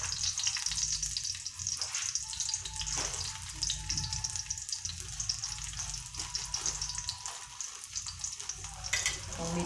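Loud sizzling and crackling of onions frying in a hot pan, with occasional scraping stirs and spattering pops throughout.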